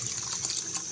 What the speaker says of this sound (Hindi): अब इन चावलों को मैं इस पानी में ऐड कर दूँगी।